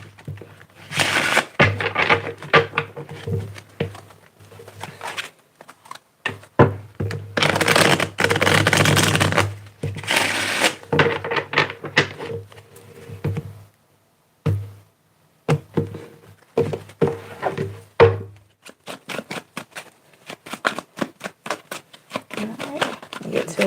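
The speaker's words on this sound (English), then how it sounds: "Let's get two more shuffles here." A deck of tarot cards is shuffled close up in rapid clattering bursts, with denser riffling stretches broken by short pauses and scattered single card taps.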